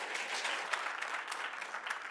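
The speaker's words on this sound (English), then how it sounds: "I need the clapping to be a little shorter" An audience clapping at a city planning and zoning commission work session in Irving, a brief burst of dense applause from a room full of people with faint voices mixed in.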